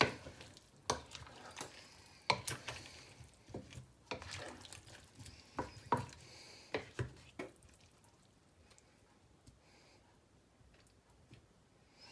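A spoon stirs a pot of mixed vegetable curry with potatoes and aubergines, irregular soft scrapes and wet clacks coming in quick bursts, then easing off into a faint simmer.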